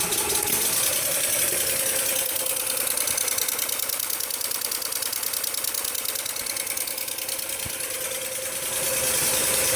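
A benchtop hybrid engine runs steadily up to a medium speed of 550 RPM, a loud continuous mechanical drone with a rapid regular pulsing and high whine throughout, with no voices.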